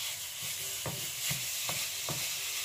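A hamburger patty frying in hot oil for a homemade cheeseburger, a steady bright sizzle with a few soft scraping stirs, close and moderately loud, no voices.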